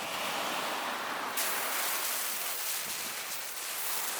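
Ocean surf rolling in at Busan's beach, a steady broadband wash of breaking waves, loud and close, with a brighter hiss of spray after the first second and no voices.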